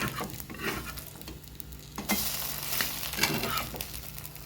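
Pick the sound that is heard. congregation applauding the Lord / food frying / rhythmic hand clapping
food frying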